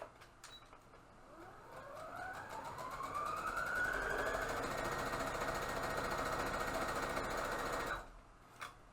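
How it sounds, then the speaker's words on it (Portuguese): A sewing machine stitches along a marked line on a fabric face mask. The motor whirs up to speed, runs steadily and rapidly for several seconds, then stops abruptly, close by and with no voices. "Vamos para a máquina, costurar no risco."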